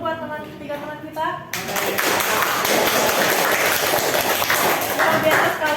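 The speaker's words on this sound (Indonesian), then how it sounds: "Tepuk tangan dulu buat 3 teman kita." Group clapping for three presenters in an Indonesian classroom session rises suddenly after a voice speaks, turning into a continuous, fairly loud wash of hands that holds steady to the end.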